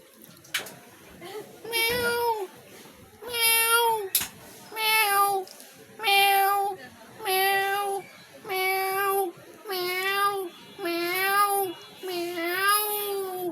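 A voice imitates a cat, giving about nine drawn-out meows in a steady, evenly spaced series, fairly close and clear.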